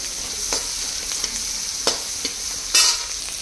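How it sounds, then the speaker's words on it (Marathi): Sliced onion sautés in a pan with a steady hiss of frying and a few sharp scrapes and taps as it is stirred, up close. "आता आपण उभा चिरलेला कांदा परतायला टाकलाय"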